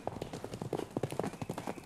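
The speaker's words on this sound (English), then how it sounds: "They're called marsh tackies, and they come from the low country of South Carolina, and they're a woods horse." Marsh tacky horse hooves, a low-country South Carolina woods horse, clip-clop in a steady, fairly quick rhythm of distinct close hoofbeats, moderately loud and alone.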